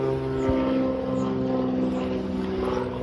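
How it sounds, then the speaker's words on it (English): A propeller airplane drones overhead, a steady humming roar with a sustained engine tone, fairly loud and unbroken. "Sorry about the plane."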